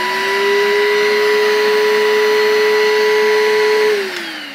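An ALDI cordless stick vacuum cleaner runs loud and close with a steady high motor whine, then winds down in pitch near the end as it switches off.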